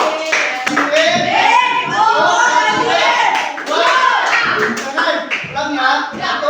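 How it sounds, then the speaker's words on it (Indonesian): Students in a classroom lesson clap for their classmates, quick scattered applause mixed with lively voices calling out over it throughout. "Ya, tepuk tangan untuk teman kalian."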